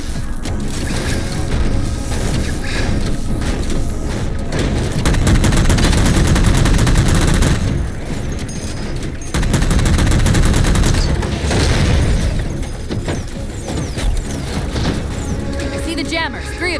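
Heavy, sustained gunfire in Halo 4 as jammers are shot down, dense, loud bursts that roll on almost without a break, with crashing impacts and a voice talking over parts of it.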